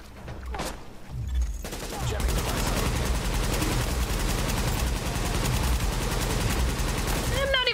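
Dense, continuous gunfire and bursts of automatic weapons in The Division video game, loud and sustained across the whole stretch, with game voices faintly mixed in.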